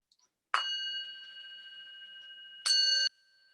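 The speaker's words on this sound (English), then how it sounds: "So I'm going to ring the bell again and bring us into what's called the metta meditation" A meditation bell struck twice, each strike a bright metallic ring with sustained tones; the first rings out for about two seconds and fades, and a second strike near the end rings again, in an otherwise silent space.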